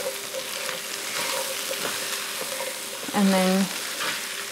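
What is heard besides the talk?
stirring garlic frying in a pan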